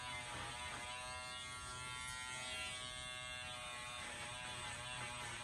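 An electric trimmer cuts bobbin threads on the back of a large embroidered pillow, a close, steady high-pitched buzz that runs unbroken throughout.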